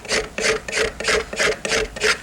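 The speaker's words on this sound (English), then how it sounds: "So now I'm scraping at about 45 degrees to the original scrape." Card scraper dragged across a wood surface at about 45 degrees to earlier passes, giving six even, raspy strokes in a steady rhythm, close and fairly loud with no talking.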